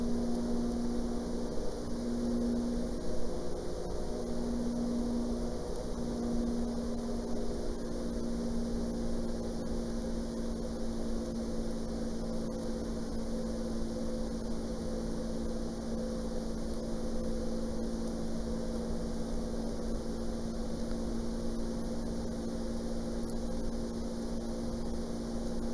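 Small propeller aircraft engine heard from inside the cockpit, a constant loud droning hum with a steady whirring tone, unbroken for the whole stretch with no talk.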